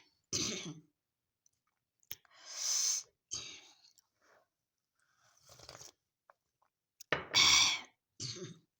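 A person with a cold and an itchy throat gives several separate coughs and throat-clearing bursts, spaced irregularly across the stretch with quiet gaps between them, close and fairly soft.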